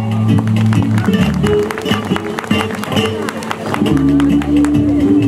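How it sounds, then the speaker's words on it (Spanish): Audience clapping along to live Peruvian criolla music, steady rhythmic claps blending with the band and crowd noise at a singer's performance. "quiere escuchar las palmas"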